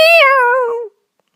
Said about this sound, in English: she trod on Mog's tail